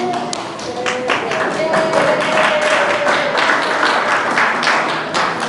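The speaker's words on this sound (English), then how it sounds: "I hope that'll read in the minutes tumultuous applause" A crowd applauding, many hands clapping in a dense, sustained burst that carries on steadily throughout.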